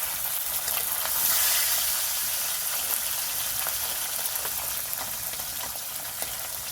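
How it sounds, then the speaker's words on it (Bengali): Loud, even hiss and crackle of pona (rohu) fish frying in hot mustard oil in a kadai, close up and steady, with no talking. "তেলটা গরম হয়ে গেছে মাছটা ভেজে নেবো"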